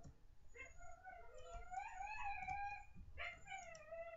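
A dog in the Minecraft video game whines and howls in several rising, wavering calls, fairly faint, with no talking.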